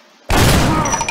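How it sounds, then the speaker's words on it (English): A shotgun firing in the video game LeadenSky: one sudden, loud blast after a brief quiet moment, followed by a ringing, decaying tail with faint metallic tones. "let's go to the shotgun"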